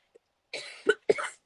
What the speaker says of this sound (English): And I'm going to cough for a little bit now.